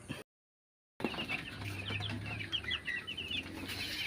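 Chickens in a new coop holding about seventy birds cluck and chirp in a busy, overlapping chorus after a brief silence, with a low hum beneath the calls.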